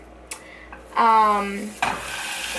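A vegetarian burger sizzles in a pan, a soft frying hiss broken by a brief tonal squeal and a few light clatters and scrapes.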